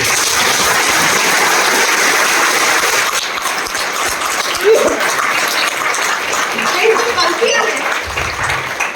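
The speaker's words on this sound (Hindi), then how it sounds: "एक बार तालियां हो सकती" An audience at a motivational success-story talk gives a loud burst of applause that carries through the first few seconds, then thins and fades into quieter room noise.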